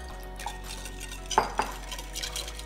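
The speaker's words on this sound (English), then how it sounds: "I'll start stirring it a little bit now." A utensil stirs ground cumin, coriander and chili powder into a Mexican bean salad in a bowl, giving a few soft, close scrapes and a couple of light clinks against a quiet background.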